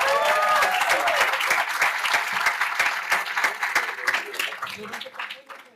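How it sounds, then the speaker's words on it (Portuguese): Audience applause at a WordCamp Portugal conference session, a loud burst of many clapping hands that thins gradually into scattered claps, with voices and some cheering mixed in. "Salva de palmas."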